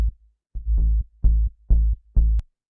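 Sub bass synth preset, a BS Buka patch, playing five deep sustained low notes in a steady rhythm with short gaps between them, loud and alone with no other instruments.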